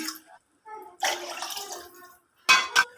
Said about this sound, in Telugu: ఆ గిన్నెతోటి వాటర్ పోసుకుంటున్నాం